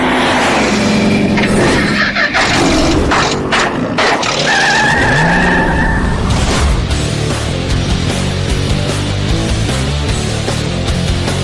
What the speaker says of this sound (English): Let's go do some skids.